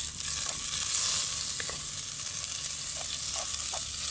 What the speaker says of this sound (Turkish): Etimizi de kavurduk. Şimdi salçalarımızı ilave ediyorum.